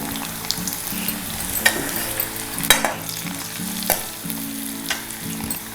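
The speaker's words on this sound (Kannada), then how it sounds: "ಕರಿಬೇವನ್ನು ಹಾಕ್ತಾಯಿದ್ದೀನಿ" Curry leaves crackle and sizzle in hot oil, a loud steady frying hiss with a few sharp pops and stirring clatters.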